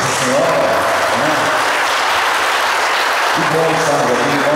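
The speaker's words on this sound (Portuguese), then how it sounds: "Vamos dar uma salva de palmas à nossa mãezinha querida, Nossa Senhora" Loud, continuous applause from a charismatic worship congregation for Our Lady, a dense wash of clapping with music and voices carrying underneath.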